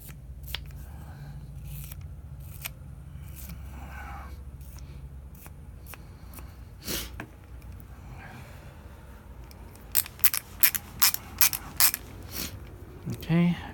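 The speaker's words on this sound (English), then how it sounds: "So wire brush this threads here." Wire brush scrubbing the threads of a Honda Monkey fork leg, quiet scratchy strokes over a low hum, then a cluster of sharper quick brushing bursts near the end.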